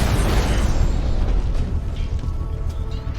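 A controlled explosion of an exposed bomb payload in Batman: Arkham Knight, a heavy rumbling blast that starts loud and booming, then rolls and fades into a lingering low roar.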